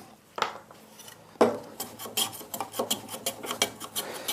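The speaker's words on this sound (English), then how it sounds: "with a plane or a spoke shave or a draw knife, it's just a matter of planing that down to the line" Hand plane or spokeshave shaving wood down to a marked line, a series of short rasping strokes in quick rhythm after an initial sharp cut, close and fairly loud with no talking.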